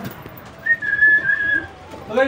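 A pigeon outside its coop gives a short, soft coo, a single held tone in the middle of an otherwise quiet moment, with a brief faint call at the end.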